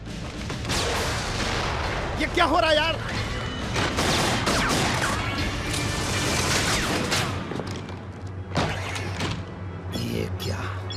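Film action scene with heavy gunfire: dense bursts of shots and thuds over a low rumbling music bed, with shouting voices and someone speaking over the barrage.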